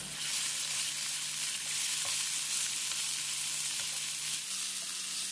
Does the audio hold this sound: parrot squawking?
no